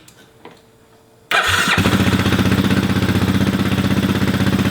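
A Kymco Xciting 500ri scooter with a suspected carb leak and high idle fires up after a quiet start, then settles into a loud, steady idle that chugs on without a break.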